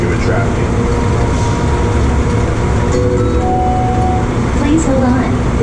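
Passenger train slowing to a stop, a loud, steady rumble of wheels and carriage noise from inside the car, with an onboard announcement voice over it.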